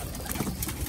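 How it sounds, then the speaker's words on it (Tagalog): Pigeons in a box at feeding time give soft, steady cooing and rustling that fills the short moment, fairly close and even in level, with no talking. "Yan ang mga ibon natin, grabe."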